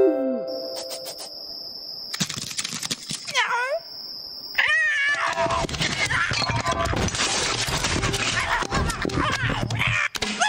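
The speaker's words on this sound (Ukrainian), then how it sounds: "Кіт Іванович, ти так зголоднів" A cartoon cat meows in an animated children's story, several clear mewing cries over bright musical tones and chirping effects, with a voice speaking through the busy second half.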